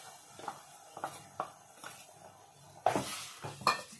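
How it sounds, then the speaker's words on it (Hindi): Gram flour being roasted in cream in a pan, heard as a quiet series of spoon scrapes and clinks against the pan at a steady stirring rhythm, with a faint sizzle underneath. "और मलाई के अंदर भी हम इसको 5 मिनट के लिए और भूनेंगे"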